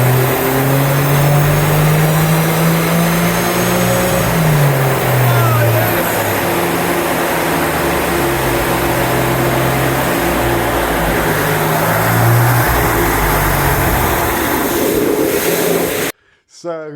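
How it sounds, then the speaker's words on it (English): A Porsche 996 engine on a rolling-road dyno roars continuously for a long stretch, pitch climbing and dipping through gears under hard throttle, then cutting off abruptly near the end. "I've just overlaid the shot of the rolling road of the car doing its like final pull"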